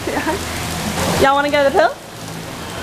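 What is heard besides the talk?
rain falling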